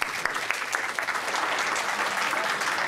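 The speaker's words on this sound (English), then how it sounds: "Let's give him a round of applause." Steady audience applause for a guest speaker at a church conference, a continuous mid-level wash of many hands clapping throughout.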